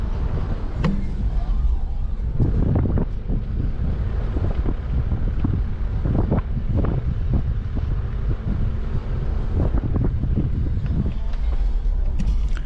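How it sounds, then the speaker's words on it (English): Strong wind in a park buffets the microphone in a loud, continuous low roar with gusty thumps, steady throughout. "It's really windy out in the park."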